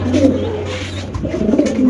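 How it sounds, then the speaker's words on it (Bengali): Racing pigeons at a bird market give low, rolling coos close by, two or three throaty calls over a murmur of background noise. "রেস করার রেসার কবুতর নিতে চান"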